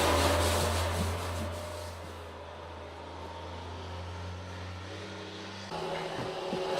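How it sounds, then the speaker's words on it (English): Traffic noise drifts in through an open window as a steady, low rumbling hum with passing-vehicle swells, moderately faint and continuous, with no one talking. "Sorry about the traffic sounds."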